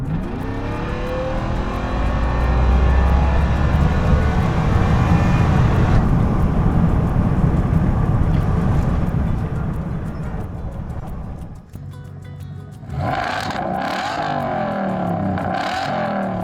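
A 2025 Ford Raptor R truck with a 3.8-liter Whipple-supercharged V8 accelerates hard down a long straight, its loud, rising roar sustained for several seconds before easing off, then picking up again with some wind and road noise.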